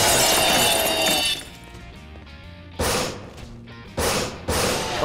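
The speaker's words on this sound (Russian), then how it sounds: "Я буду со зла бить стекла." Glass windows smashing in Garry's Mod: a long crash of shattering glass, then three more loud, sharp bursts of breaking glass with quieter gaps between them.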